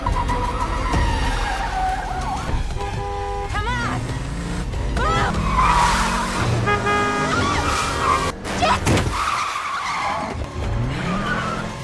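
A car in a film pulls away with screeching tires and revving engine, layered under dramatic music and scattered effects, loud and continuous throughout.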